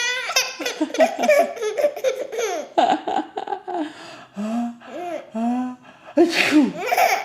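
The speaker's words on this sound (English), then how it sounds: "I think I have to sneeze." Repeated playful sneezes from a person, each a sharp burst, mixed with laughter and a baby's giggles, with voices talking between them in a lively indoor exchange.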